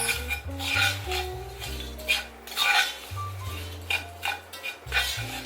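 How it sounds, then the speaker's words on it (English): Butter and crushed bread crumbs are mixed in a bowl, with close clinking and scraping of a utensil against the dish in quick irregular bursts, moderately loud and without speech. "Just mix this up, the butter and the crumbs."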